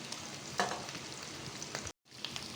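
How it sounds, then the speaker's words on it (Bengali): Shrimp fry in shallow oil for a crispy shrimp dish, with a steady close sizzle and crackle, a few sharper pops, and a brief cut to silence before the sizzling resumes. "একদম হালকা আছে ভাজতে হবে, ব্রাউন কালার করে ভেজে নিব।"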